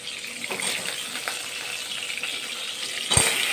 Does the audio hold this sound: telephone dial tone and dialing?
no